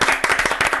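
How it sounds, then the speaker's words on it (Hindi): Quick, brisk clapping by a quiz-show audience for a contestant, a rapid run of sharp claps close by, with no talk. "ताली बहुत तेजी से बजा रही थी"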